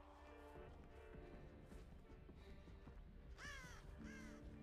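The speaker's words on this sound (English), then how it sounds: "There's no way I scared that crow." A crow caws twice in the Apex Legends video game, harsh rising calls standing out near the end over faint game ambience and footsteps, with no talk.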